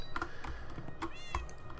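A cat meows in the Minecraft video game, a few short game meows over a steady busy background with clicking like typing.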